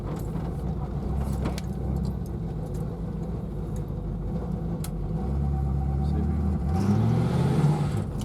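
A 1982 Corvette C3 with its engine rumbling steadily close by, the revs building in the last few seconds as the tires spin, while a person talks briefly.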